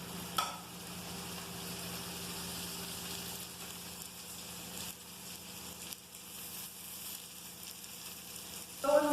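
Vegetable fritters frying in a pan give a steady, quiet sizzle and crackle that runs unbroken throughout, with a brief clatter near the start and end.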